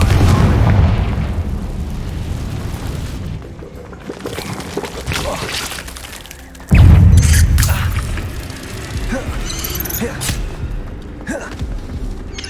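Explosive spell blasts and booming impacts in the Hogwarts Legacy video game during a trial boss fight, with a loud low thump near the middle over continuous rumbling game effects and clattering.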